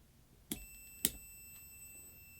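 A continuity tester used to check Telecaster guitar pickup wiring gives two short, sharp electronic beeps about half a second apart, then a faint third, in a quiet room.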